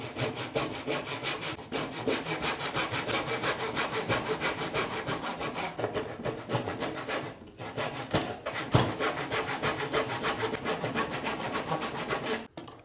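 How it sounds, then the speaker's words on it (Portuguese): A hand saw cuts through a block of carving wood in steady back-and-forth rasping strokes, close and continuous, with two brief pauses and no talk. "Agora com o serrote eu vou cortar as linhas de fora."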